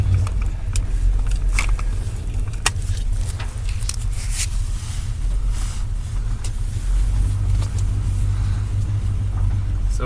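An old 1972 GMC Sierra Grande pickup truck rumbles along in reverse at low speed, steady engine drone with occasional clicks and rattles, close and fairly loud, no talking.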